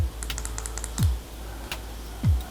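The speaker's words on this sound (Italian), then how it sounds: "quindi per andarla a sbloccare dobbiamo fare 4 clic" Four sharp clicks from a flashlight's button, pressed in an irregular rhythm to unlock it, close and clear over a low steady hum, with a couple of soft thumps between.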